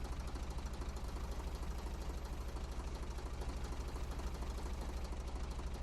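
The tractor engine in Professional Lumberjack 2015 idles with a low, steady, rhythmic knocking rumble, constant and fairly quiet, with no voices.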